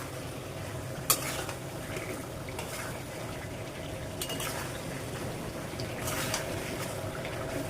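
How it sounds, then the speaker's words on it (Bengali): Fish being stirred in a pan over a low frying sizzle, with scattered utensil scrapes and clinks against the pan, steady and close throughout. "এখন মাছগুলো নেড়ে দিব।"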